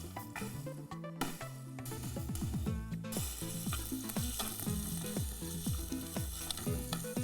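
Sliced onions and green chilies frying in oil for a Hyderabadi fish curry gravy, a continuous crackling sizzle with occasional stirring clatter, close and without speech.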